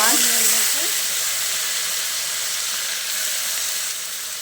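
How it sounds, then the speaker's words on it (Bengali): Fish frying in a pan gives a steady broadband sizzle that fades a little over a few seconds, continuous and close, with faint background sounds but no clear talk. "বাদ বাকি যা মাছ ছিল মা আবার বসিয়ে দিয়েছে ভাজতে"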